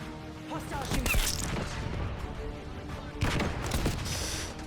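Gunfire in the shooter game Black Ops 6 comes as dense bursts of shots with impacts, loud and close, in two clusters under game voices.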